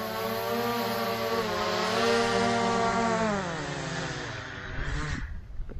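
A DJI Mavic Air 2 drone that had fallen into water, with a sticking hinge, runs its motors in flight: a loud, steady whining hum that sags in pitch near the end and then cuts off abruptly.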